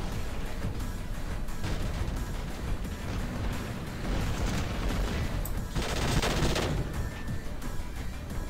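Rapid automatic gunfire and heavy weapon blasts from the video game War Robots rattle almost nonstop, with a brief louder burst of explosive fire partway through.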